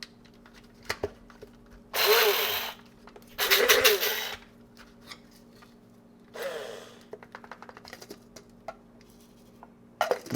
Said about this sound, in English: We just want to touch this grinder a couple times,